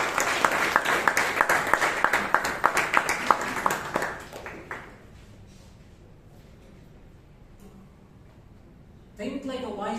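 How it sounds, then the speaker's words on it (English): Applause at a Toastmasters meeting in Bangalore, a burst of many hands clapping that fades out over about four seconds into a quiet room before a voice begins speaking. "Please give him a huge round of applause"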